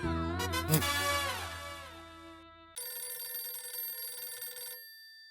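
A telephone on speakerphone rings in a sitcom scene, first as a loud warbling tonal ring, then a steadier electronic ringback tone that stops abruptly, with no voices.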